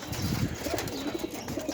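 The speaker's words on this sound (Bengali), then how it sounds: "এই যে কবুতরগুলো আমার কাছে খুবই সুন্দর" Pet pigeons kept at home coo softly nearby in low, murmuring calls over a faint background hiss.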